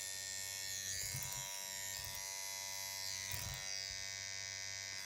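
A Mast Fold 2 Pro tattoo machine runs with a cartridge needle fitted, giving a steady, close electric buzz that hums continuously with slight fluctuations and no talking.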